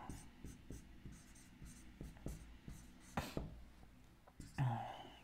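Pen scratching notes on paper, quiet close strokes in an irregular rhythm with small taps, ending in a brief rustle, faint speech-like sounds barely present.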